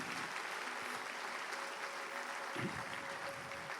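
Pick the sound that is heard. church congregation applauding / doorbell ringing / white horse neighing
church congregation applauding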